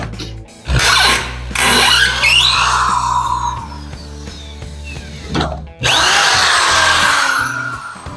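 A power drill backs screws out of wooden formwork for a concrete sink, with two loud, close whirring bursts of motor hum and grinding, separated by a brief pause.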